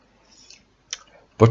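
A single mouse click on a download button, a brief faint tick followed by a louder click, with a voice starting at the end.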